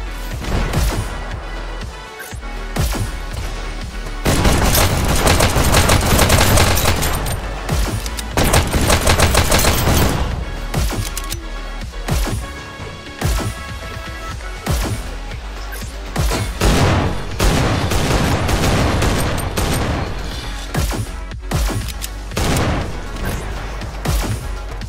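Shotgun fire in a game played live, dense bursts of loud gunfire crashing through a busy, noisy mix, with heavy volleys around the middle and scattered shots later.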